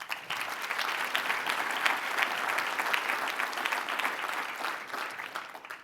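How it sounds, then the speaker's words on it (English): A conference audience at a small business finance forum opening plenary in Austin breaks into sustained applause, dense and even from start to finish before tapering off near the end. "Let's give a round of applause."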